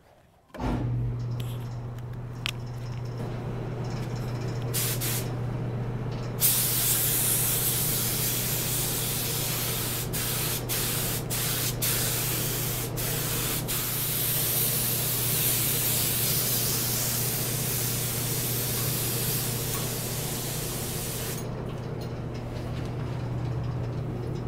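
A spray gun lays the final coat of paint on a horse statue in an enclosed space, a loud, steady continuous hiss lasting about twenty seconds with a low constant hum beneath and a few brief breaks near the start.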